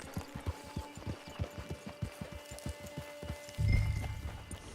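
Horse hooves clip-clop in a steady trotting rhythm in the video game Red Dead Redemption 2, fairly close and moderately loud, ending in a louder rumbling burst near the end.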